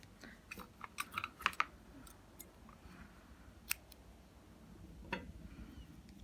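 Scissors snipping crochet yarn close by, a few quick soft clicks and snips spread over several seconds among light handling noise, with no talk.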